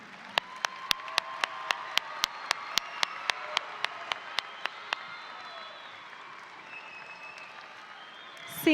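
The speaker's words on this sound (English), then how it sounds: "please join me in giving a round of applause to your support systems" A stadium crowd at a high school graduation applauds in a broad, distant wash, with one person's sharp, regular claps standing out close by for several seconds before stopping.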